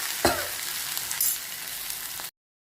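Food frying in a pan, a close steady sizzle with a couple of sharp clatters from turning or stirring, running about two seconds before cutting to silence.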